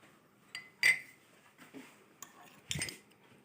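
A spoon mixing lemon, orange and amla extract into a homemade night cream, heard as a few light clinks and scrapes against a small container, sparse and close, with faint background noise between strokes.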